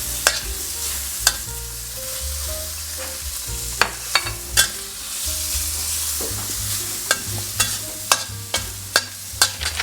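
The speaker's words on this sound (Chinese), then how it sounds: "先炒梅花肉" Pork shoulder stir-frying in a pan with fried shallot crisps and a little salt: a steady, close sizzle broken by repeated sharp clicks and scrapes of a spatula against the pan, with no talking.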